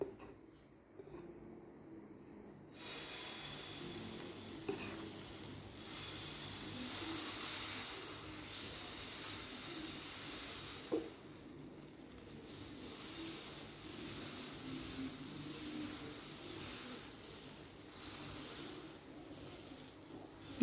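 Corn dosa batter poured onto a hot dosa pan gives a sudden broadband sizzle that starts a few seconds in and holds steady, close and fairly loud, with faint crackles throughout.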